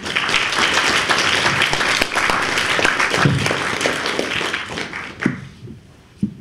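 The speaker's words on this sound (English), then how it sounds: "So please, round of applause for Sukant Chandan" An audience applauds a speaker being introduced, dense sustained clapping from a crowd that tapers off into a few scattered claps near the end.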